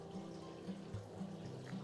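Frozen blue moscato margarita poured from a pitcher gives a steady, close liquid pour with faint sloshing and no talking.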